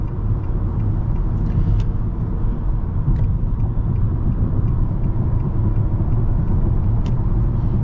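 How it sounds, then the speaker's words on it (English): A 2024 Nissan Altima with a 2.5-liter engine accelerates on the road, heard from inside the cabin as a steady, muted low engine hum and road rumble with no talking. "You hear the engine under acceleration, but it's not obtrusive."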